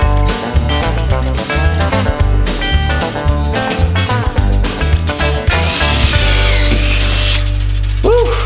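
A power drill drives screws into a truck bed under repair, its motor whirring in bursts with a ratcheting clatter, then running in a long steady whine near the end, loud and close.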